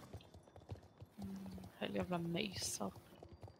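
Horse hooves clip-clop during riding around a rock in a Swedish-language video game, a soft irregular tapping in the game audio with a tonal chime near the middle, heard under people talking.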